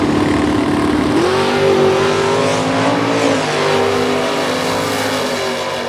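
A Mustang drag car launches hard down the strip, its engine roaring loud and close as it revs up and pulls away over several seconds.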